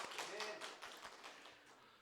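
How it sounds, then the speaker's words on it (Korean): A church congregation claps together during a Christmas thanksgiving service, a dense crackle of many hands with a few sharper taps standing out over the steady patter. "할렐루야 박수."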